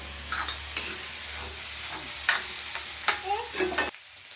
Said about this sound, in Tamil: நல்லா வசக்கி விட்டுருக்குறோம்.